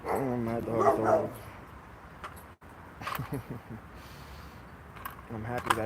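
A puppy barks and yips in a few short bursts, near and moderately loud, with a person talking between them.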